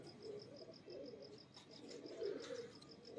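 Jaunsira pigeon cooing softly in repeated low throaty phrases, faint and fairly near, with a steady high insect-like chirp pulsing in the background.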